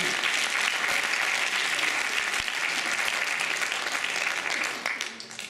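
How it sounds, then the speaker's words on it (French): An audience at the finale of a student eloquence contest at a business school in Reims applauds, with dense, loud clapping that holds steady for several seconds and then fades out. "On peut applaudir à lui."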